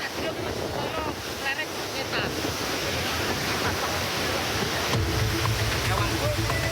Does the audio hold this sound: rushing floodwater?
yes